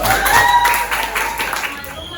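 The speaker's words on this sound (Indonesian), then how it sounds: "Pasien tepuk tangan lah kanggo kelompok hiji." In a Sundanese-language teaching class, students applaud group one before its performance with a brief, moderately loud patter of clapping, while voices and a faint tonal sound sit over it.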